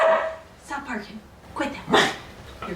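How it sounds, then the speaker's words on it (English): A dog yips and barks a few times in an indoor antique mall display setting, short bursts close by, with a person talking over and around the barks. "Stop barking."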